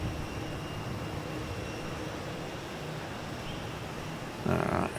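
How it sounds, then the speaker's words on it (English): A Jetstar Airbus A321neo jet passes over a ring road near Melbourne Airport, its engines producing a steady, broad roar that holds evenly throughout with a slight swell near the end. "Jetstar 122 is about to go over the ring road. It's a 321 Neo."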